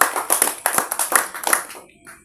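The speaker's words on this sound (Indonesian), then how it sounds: "Tepuk tangan sekali lagi." Audience at an Indonesian gathering claps hands in a brief burst of irregular, overlapping claps that fade out after about two seconds.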